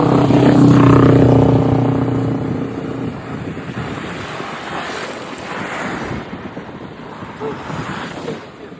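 Strong wind roars and buffets the microphone at a wind farm in Jeneponto, loudest at the start and then settling into a steady rushing blow.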